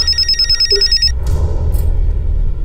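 A telephone rings with a bright, repeated electronic trill that stops after about a second, over a steady low rumble of room noise.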